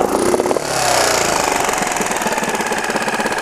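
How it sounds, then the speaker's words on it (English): Flooded outboard motor catching after a pull start, sputtering into a rapid knocking idle, close and loud throughout. "I'm gonna give it some pulls until it starts"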